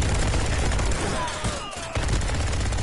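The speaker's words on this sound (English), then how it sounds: "Hold T on the main hand to start spreading a burst of deadly lasers at your enemies" Rapid bursts of laser fire from the PSVR shooter Bulletproof, a dense continuous crackling volley with a brief dip near the middle before the barrage resumes, loud and close with no talk over it.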